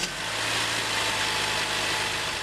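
A Saab 9-5 with a B235 engine idles steadily after vacuum tubing replacement, a close, even mechanical hum with a low droning tone and no change in revs.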